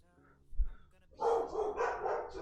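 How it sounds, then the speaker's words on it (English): Dogs barking, a short thump followed by a burst of several overlapping close barks. "Let me see what they're barking at."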